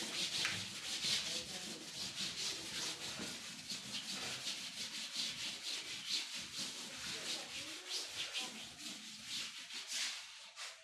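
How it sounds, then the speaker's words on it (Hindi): Rapid back-and-forth rubbing of an eraser over writing, a dense scratchy scrubbing in quick regular strokes, close and continuous for several seconds with no talk. "चलिए रब करता हूँ।"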